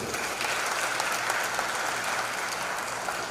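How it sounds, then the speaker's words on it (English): Audience applause fills the Naparima auditorium, a dense and steady wash of many hands clapping at an even level throughout, with no voices rising above it. "You could also give him a round of applause."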